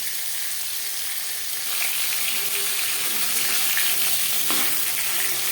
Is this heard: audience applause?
no